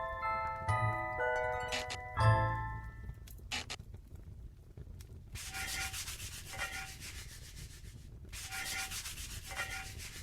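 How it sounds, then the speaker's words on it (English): Brisk back-and-forth scrubbing of a greasy cooking pot, rough rubbing strokes in bursts with brief pauses, following a few clinks and knocks of handling at the start, close and fairly loud without voices. "This pot is used for cooking food. It's still very greasy, so let's give it a scrub."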